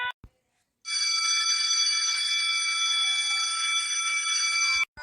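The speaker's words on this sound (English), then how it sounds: "The bell rang and all the students entered the hall." A school bell rings in a continuous bright metallic trill for about four seconds, loud and alone, in an animated story.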